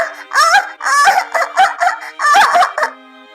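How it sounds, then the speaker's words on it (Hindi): Cartoon birds squawk while attacking, loud harsh honking calls in several rapid bursts, close and overlapping, with no talk. "पक्षी टोनी चिड़िया और उसके नन्हे बच्चों को बेरहमी से पीटने लगते हैं।"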